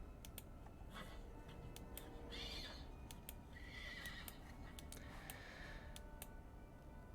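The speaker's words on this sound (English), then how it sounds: "very familiar horse" A horse whinnies in a few separate neighing bursts over faint ticking and clip-clop, fairly quiet and with no speech.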